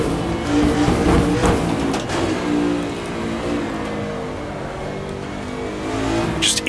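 A Formula One car's engine revs hard under throttle in the Assetto Corsa racing game, Gilles Villeneuve's ideal F1 car, a steady loud droning whine that rises and falls with the throttle and carries no talk.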